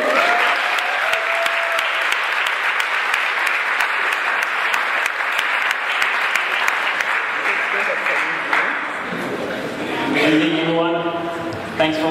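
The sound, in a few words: audience applause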